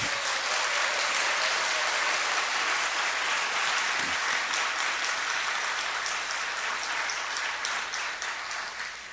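A festival gathering at a Korean church bursts into loud, sustained applause, a thick wash of many hands clapping steadily and tapering slightly at the end.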